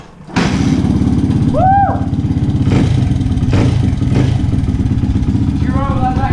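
Dirt bike engine idles loudly and steadily close by in wet, rainy conditions, with a couple of throttle blips; a man briefly whoops and someone talks over the running motor.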